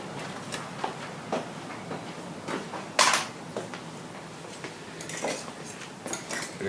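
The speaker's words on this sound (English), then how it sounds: "Gonna keep stirring it." Pasta con broccoli stirred in a pan gives light, sparse clinks and scrapes of a utensil against the cookware, faint and irregular, with one sharper clack partway through in an otherwise quiet kitchen.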